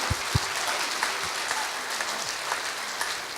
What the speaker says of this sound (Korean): 우리 다시 한번 우리 연합 창단을 위해서 우리 큰 박수로 우리 격려 부탁드립니다.